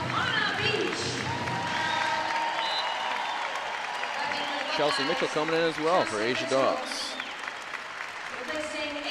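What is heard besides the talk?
basketball fans clapping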